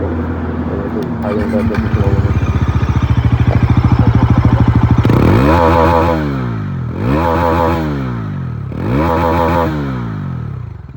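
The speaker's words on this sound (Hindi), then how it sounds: "इसका एग्जॉस्ट साउंड बहुत बेसी है और बहुत क्लासिकल क्रिस्पी साउंड है" A Bajaj Pulsar NS400Z motorcycle engine idles with a bassy, crisp exhaust note, then gets three sharp throttle revs that rise and fall at a steady pace, loud and close with no one talking.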